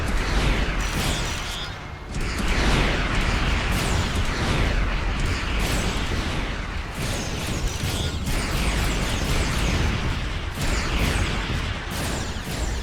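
Missile barrage explosions in the space game Starcom: Unknown Space, fission missiles striking ships, a dense, continuous roar of overlapping blasts and crackling bursts, loud and sustained with brief dips.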